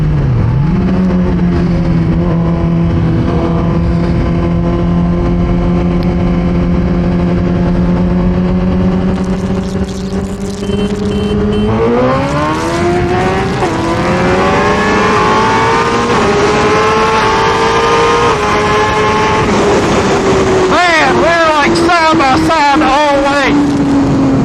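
Two Suzuki GSX-R 1000 sport bikes, one stock and one lightly modified, street racing side by side, with engines climbing loudly through the revs, a brief shift dip, then a continued high-pitched scream and changing pitch, all close and loud.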